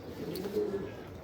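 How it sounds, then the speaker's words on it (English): A female racing pigeon gives soft, low cooing murmurs, close and fairly quiet, over about a second with no talk. "This is a nice pigeon, that is."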